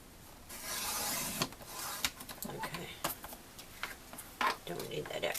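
Craft paper is trimmed to a three-inch width for a small Christmas project, making a long, close rasping cut at first and then scattered light rustles and handling taps as the paper is shifted about.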